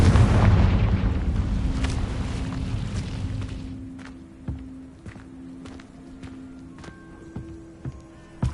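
Confringo blasting spell detonating in Hogwarts Legacy: a loud, deep boom opens and rumbles away over several seconds, followed by scattered lighter impacts and crackles with a faint sustained hum beneath.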